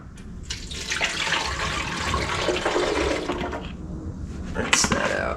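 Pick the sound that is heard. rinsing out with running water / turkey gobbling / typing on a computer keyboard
rinsing out with running water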